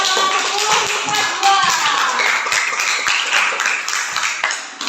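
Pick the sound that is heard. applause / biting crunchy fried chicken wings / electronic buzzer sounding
applause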